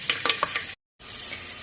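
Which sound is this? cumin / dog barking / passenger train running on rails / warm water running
cumin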